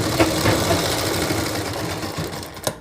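A sewing machine stitches a shirt collar with a fast, steady mechanical whir and rhythmic needle chatter that runs close and continuous for nearly three seconds before a final knock.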